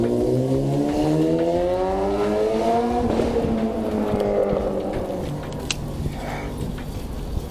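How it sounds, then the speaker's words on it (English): A car engine revs up through rising pitch sweeps, climbing repeatedly, then settles as the vehicle moves off, loud and close with traffic noise around it. "Vroom, vroom."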